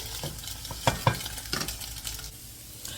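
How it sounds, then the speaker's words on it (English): Eggs scrambled hard in a hot frying pan, sizzling steadily while a utensil stirs and scrapes through them, with a few sharper clicks against the pan and no talking. "we like our eggs scrambled hard"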